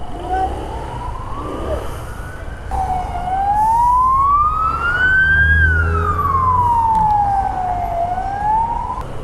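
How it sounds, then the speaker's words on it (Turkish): Wailing emergency sirens from an approaching ambulance and police vehicle sweep up and down in pitch, loud and close over steady traffic rumble, growing stronger as they near. "Bak ambulans da geliyor. Polis geliyor, ambulans geliyor"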